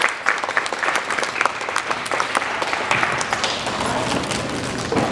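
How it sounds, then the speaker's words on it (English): A roomful of people gives a round of applause for ALIS members, with brisk, continuous clapping from many hands that stays close and full throughout the few seconds. "please join me in giving them a round of applause for their hard work"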